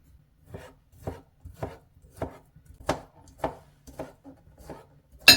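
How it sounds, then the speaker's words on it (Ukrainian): A knife chops beetroot into cubes on a cutting board in steady, evenly spaced strikes, about ten crisp thuds close by, with no voices. "Тепер беремо безпосередньо наш буряк і подрібнюємо кубиками."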